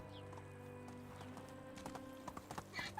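A horse's hooves clip-clop at a steady trot in Medieval Dynasty, faint and close, under a low game music drone, picking up pace near the end.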